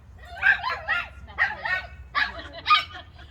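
A dog at a group class barks and yips in quick clustered bursts, loud and close, roughly six sharp calls spread across the moment over a low background rumble.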